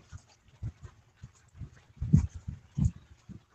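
A dog near water outdoors gives short low panting or whimpering sounds in uneven bursts, close and fairly quiet, with a couple of louder huffs toward the end.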